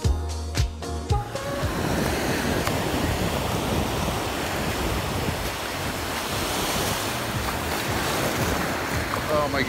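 Ocean surf washes steadily onto the shore with a constant roar and wind buffeting the microphone, after a brief voice at the start.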